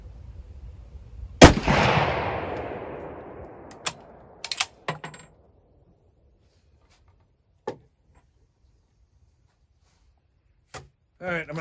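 A sporterized Lee Enfield bolt-action rifle fires a single loud, close shot that booms and decays with a long echo, followed by sharp metallic bolt clicks and scattered handling noises.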